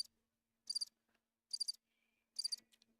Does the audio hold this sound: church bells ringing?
no